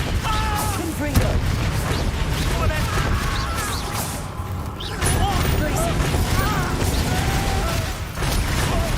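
Repeated booming fire-spell blasts from Confringo in the video game Hogwarts Legacy, loud and continuous through dense combat noise with shouting voices over the explosions.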